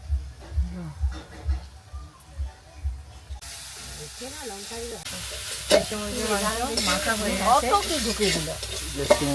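Desi chicken curry frying in a pot on a clay stove, a loud hissing sizzle with scraping stirs that starts partway through, following low voices talking nearby.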